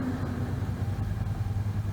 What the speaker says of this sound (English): Now that's not me racing my engine. That's some mullet head and a Mustang off to my left.